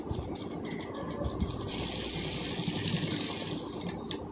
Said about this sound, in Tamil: இந்த மாதிரி சன்னமாக அந்த கிளாத்தை வச்சு நம்ம பைப்பிங் மாதிரி தைச்சிட்டு வரணும்.